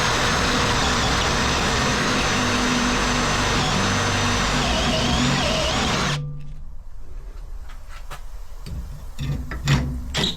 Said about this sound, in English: let's cover the camera with a drill and drill it out